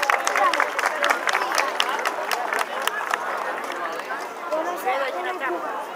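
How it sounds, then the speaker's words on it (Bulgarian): At an outdoor municipal holiday gathering in Bosilegrad, a crowd applauds the Top Dance group, scattered claps sounding over loud chatter and voices that dominate, easing slightly toward the end. "Айде ги отпоздравим с аплодисменти"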